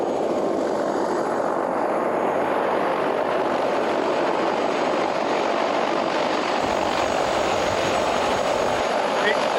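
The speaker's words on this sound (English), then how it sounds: "We're in a helicopter flying to overlook Sutherland Falls and Lake Quill" Helicopter in flight over Milford Sound toward Sutherland Falls and Lake Quill, its rotor and engine making a loud, continuous droning roar throughout, with voices faintly under the cabin noise.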